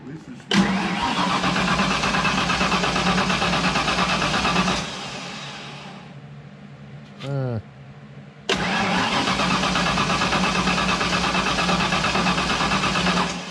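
A turbo car cranks and fires into a loud, steady running roar, cuts out and goes quiet with a short whine in the gap, then starts again and keeps running hard; people talk over it.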